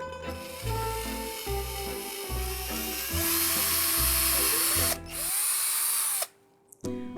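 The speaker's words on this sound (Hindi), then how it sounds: "हम एक पतले ड्रिल बिट को यूज करेंगे and let's start making the whole." Power drill gun boring holes with a thin drill bit, loud whirring bursts that stop and start in a stuttering rhythm, ending in a steady high whine before cutting off.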